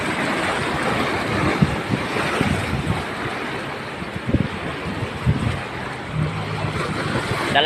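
Large ocean waves surge and break on the Ilocos Sur coast, a steady roaring wash with gusts of wind noise and a few heavier crashes, no talking.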